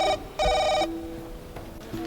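A mobile phone rings in a home with a two-tone electronic ringtone, heard in two short bursts followed by fainter tonal bleeps, close and fairly loud, with no talking over it.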